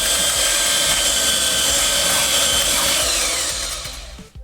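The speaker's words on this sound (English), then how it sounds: "I can just get the sander" Close electric sander whirs with a steady high-pitched buzz and gritty rubbing on pallet wood, then winds down near the end.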